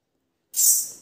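A leaking pasted pipe valve being cut slowly along its side gives a sudden, continuous high hissing grind that starts abruptly after a silent stretch and fades slightly over about half a second.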